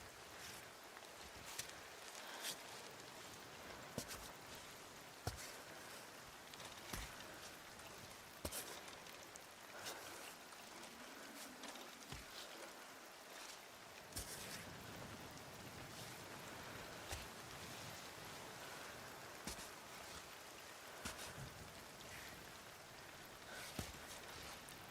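Steady rain in the climbing game Cairn, a soft continuous patter with scattered sharper drops hitting surfaces, faint and even throughout.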